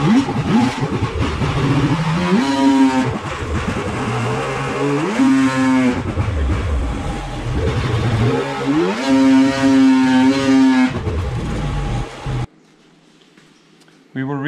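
An 800 E-TEC two-stroke engine with ported cylinders runs on a dyno, revving up and down in repeated loud sweeps before cutting off abruptly, leaving a quieter background.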